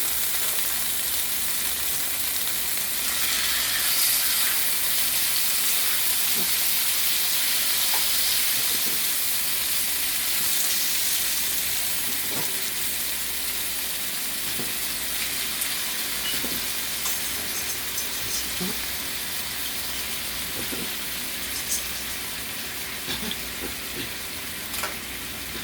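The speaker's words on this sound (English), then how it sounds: "I'm going to go ahead and sear my other couple of pieces in there." Balsamic vinegar chicken pieces sear in a hot pan with a steady, close sizzle and a few small pops and crackles throughout, with no talking.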